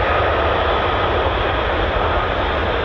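An F-15 or F-35 fighter jet taxis back at RAF Lakenheath, a steady loud roaring whine of jet engine noise without voices.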